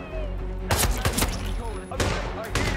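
Gunfire in the video game Hitman III rings out in several loud, close bursts of rapid shots separated by short gaps, with a voice speaking between them.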